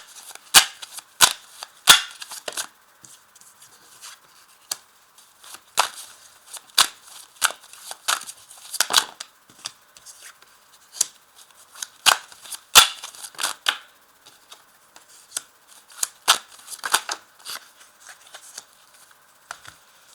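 Tarot cards shuffled and handled on a table, giving sharp irregular snaps and flicks that come in clusters with quiet gaps between them, close and without talking.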